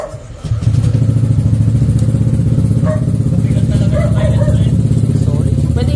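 A Honda Click scooter with a 160cc engine idles loudly up close, its exhaust putting out a steady rapid thumping burble after a brief start, with voices talking nearby.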